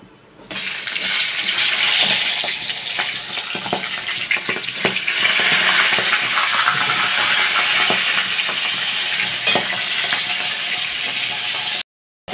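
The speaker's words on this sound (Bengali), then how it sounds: "আগে মাথাটা ভেজে নিই" A fish head frying in hot oil in a pan for lentil dal, a loud, steady crackling sizzle lasting about twelve seconds before cutting off abruptly.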